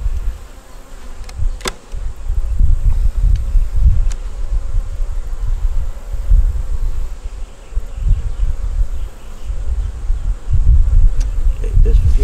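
A dense swarm of honey bees drones loudly around an opened hive as frames are pulled out, the low buzzing rising and falling steadily, broken by a couple of faint sharp clicks.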